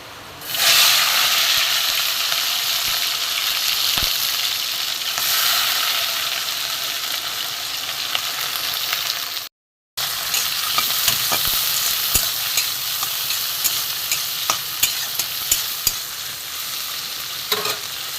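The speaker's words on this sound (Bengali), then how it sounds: "এখানে তেল গরম হয়ে গেছে এখানে আমি চিংড়ি মাছগুলো প্রথমে আমি ভেজে নেবো" Prawns frying in hot oil, a loud continuous sizzle with stirring clicks and scrapes that breaks off briefly midway and then resumes with sharper crackles.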